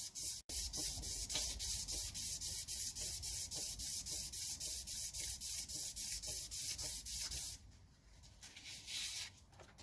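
Hand sanding with 800 grit paper and WD-40 on a home-built 2.0 Pinto engine block: steady rhythmic back-and-forth rubbing strokes, close and continuous, then stopping and giving way to softer scuffs near the end.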